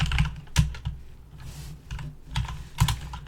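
Keys clack on a computer keyboard while HTML is typed into a code editor, with irregular bursts of close, crisp keystrokes and brief pauses between them.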